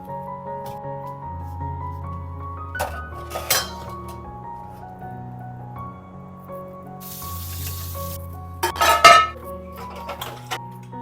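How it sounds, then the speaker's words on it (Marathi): Dirty dishes are gathered into a kitchen sink, with sharp clinks and clatters of plates and utensils knocking together at intervals over a low steady hum, and one louder jumble of clanging near the end. "सगळ्यात आधी जी मला इकडची भांडी सगळी घासायला टाकायची आहेत ती सगळी एकत्र करून मी सिंकमध्ये ठेवून देते"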